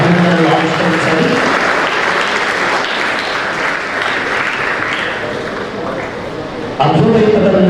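A crowd at a Hyderabad job fair event claps loudly and continuously, the applause swelling again near the end.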